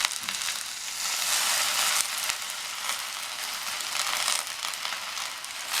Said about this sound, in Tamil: சேர்த்துட்டு நல்லா இந்த மாதிரி வதக்கி விட்டுக்கோங்க